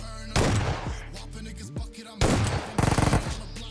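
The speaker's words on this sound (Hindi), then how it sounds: "ज़िंदगी में पहली बार गाइस मेरा शॉटगन कनेक्ट हुआ है" In the BGMI (PUBG) battle royale game, loud gunfire bursts out in several sharp blasts followed by a quick rattling volley, close and punchy with no talk.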